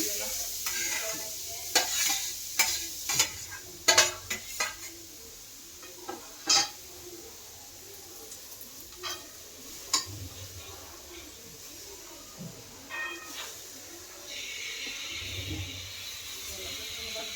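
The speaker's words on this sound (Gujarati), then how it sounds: "હવે આ ઘી ગરમ થાય એટલે બીટ એમાં ઉમેરી દેશું।" Beetroot roasting in hot ghee for beet laddu, stirred with a utensil: soft sizzling under repeated sharp scrapes and clinks against the pan, bursty early then quieter, fairly faint and close.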